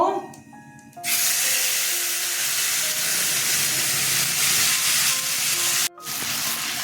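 Dried red chillies, bay leaves, cumin and fennel seeds hit hot oil while tempering for moong dal with sweet pumpkin, giving a loud steady sizzle and hiss after a short quiet start, with one brief break near the end.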